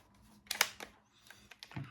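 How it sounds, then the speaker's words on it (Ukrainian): An old film camera gives a few quiet mechanical shutter clicks and small clacks, faint and close with short gaps between them. "бачите, даже щелкає"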